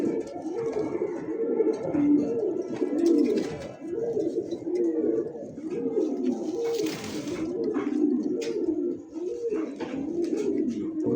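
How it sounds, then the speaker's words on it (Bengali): A pigeon sitting on eggs coos continuously, deep rolling repeated calls close by, with faint rustling and a brief clatter partway through. "কবুতরের বেশি ডাক শুনতে হয় না, একটা ডাকের সাউন্ড শুনলে বোঝা যায় যে ওর ডাকটা কিরকম হবে।"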